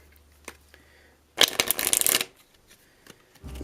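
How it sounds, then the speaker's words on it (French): A deck of playing cards riffle-shuffled close up, one quick burst of fluttering snaps lasting under a second after a couple of soft taps, with a faint handling sound at the end. "vous n'avez plus qu'à laisser tomber les cartes dans votre main."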